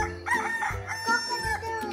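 A toy rooster sounds off with a short electronic cock-a-doodle-doo crow, loud and close, with no talk over it.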